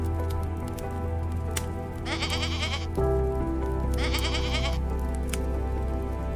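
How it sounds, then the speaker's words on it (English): Bleating from a mountain goat in North American wilderness, two sustained wavering calls over a steady low background hum, fairly close and clear with no talking. "The mountain goat is not a common goat."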